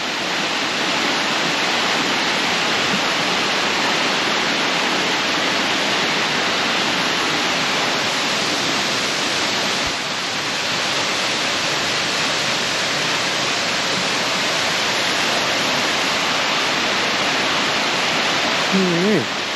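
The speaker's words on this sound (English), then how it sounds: "That must be waterfall number 20." Waterfall on the Pictured Rocks National Lakeshore, a steady broadband rush of falling water that holds at an even, loud level throughout with no talk over it.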